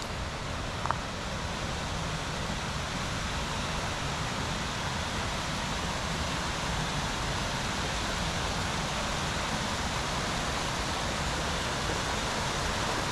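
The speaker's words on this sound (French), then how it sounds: "juste le bruit des cascades derrière" Waterfalls rush steadily in a mountain setting, a dense, continuous broadband roar holding at an even level throughout, with one faint brief click near the start.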